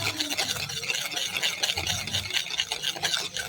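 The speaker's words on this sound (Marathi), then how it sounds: "आता आपल्याला या श्रीखंडामध्ये 1 चमचा कोको पावडर घालायची आहे आणि श्रीखंड चांगले फेटून घ्यायचे आहे" A whisk or spoon stirs cocoa powder into thick chocolate shrikhand in a bowl, giving a steady, close scraping and rubbing rhythm that runs continuously without any talking.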